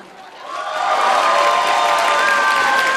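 Guests at a wedding dinner banquet in a large hall cheer, whoop and clap. The crowd noise swells quickly from a lower start into a loud, sustained roar with sharp shouts above it.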